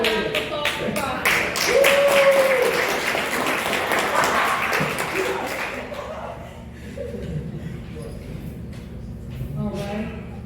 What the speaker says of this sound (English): let's give another round of applause for Bob